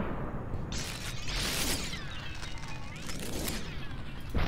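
Gunfire in the video game SuperHot, a couple of sharp synthetic shots ringing out amid game effects, with a final abrupt blast at the end.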